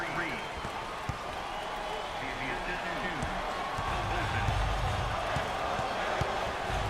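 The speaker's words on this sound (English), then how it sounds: "You can just hear the crowd getting involved." Arena crowd noise swells steadily under a commentator's voice at a college basketball tournament game, Bucknell versus Maryland, with a ball bouncing on hardwood and occasional sneaker squeaks.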